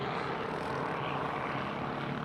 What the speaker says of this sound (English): Great stuff and great coverage provided from our helicopter